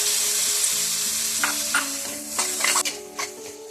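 Tomatoes sizzle in hot oil with fried chillies for a brinjal masala curry, a steady hiss under the scrape and clatter of a spoon stirring in the pan.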